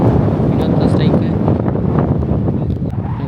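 Gusty wind buffets the microphone across an outdoor village cricket ground during a tournament match, a steady loud rumbling roar throughout with faint distant voices underneath.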